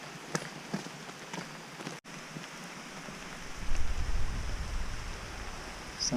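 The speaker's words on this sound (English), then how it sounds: "Sounds like the rain is going to start edging back." Rain on the Appalachian Trail: a soft hiss of falling drops with scattered taps close by, then a heavier, louder patter swelling after a brief dropout midway.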